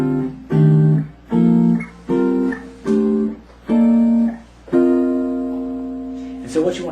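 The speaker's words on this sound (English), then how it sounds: "So the C Dorian harmonized scale looks and sounds like this." Chords of the C Dorian harmonized scale played one after another as separate sustained chords, each cleanly struck and held briefly, the last one ringing longer and fading, close and clear with no talking.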